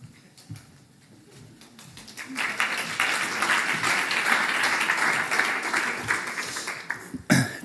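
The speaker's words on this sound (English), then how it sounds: "It's always nice when I get a round of applause before I've done anything." Conference audience applause at a physiotherapy symposium, scattered claps at first that swell into a full, sustained round of clapping, ending with a few louder close claps.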